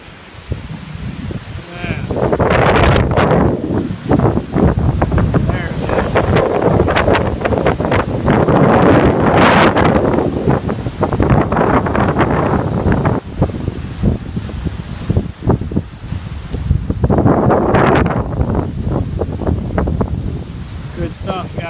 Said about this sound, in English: you can kind of hear all that wind over there.